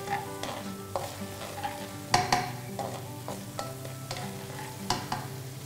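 Chicken stock simmers and reduces in a pan for a calamari and salted-egg carbonara, with a steady bubbling sizzle under repeated close scrapes and clatter of stirring.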